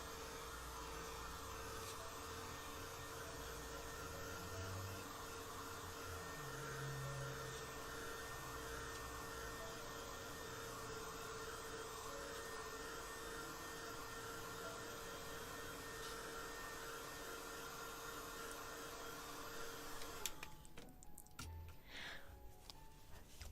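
A hair dryer blows steadily for about twenty seconds to dry a watercolor painting of a cozy cup, a constant close whir that cuts off near the end.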